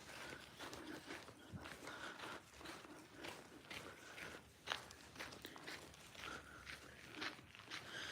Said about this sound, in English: You hear footsteps.